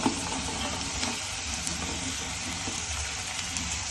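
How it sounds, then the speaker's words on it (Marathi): Potatoes and beans frying in oil, a dense continuous sizzle with faint stirring scrapes throughout, close and even in level. "आपल्याला बीन्सला पण चांगलं दोन ते तीन मिनिट चांगलं फ्राय करून घ्यायचं आहे"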